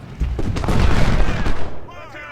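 Artillery booms and scattered gunfire ring out in a Civil War battle video game at 1st Bull Run, a dense loud cluster of blasts that fades to a thin ringing tail.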